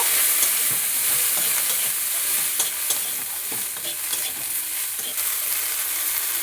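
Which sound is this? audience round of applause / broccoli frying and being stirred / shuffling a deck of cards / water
broccoli frying and being stirred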